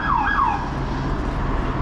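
A police car siren wails briefly in a couple of rising and falling sweeps over a low traffic rumble, then fades out.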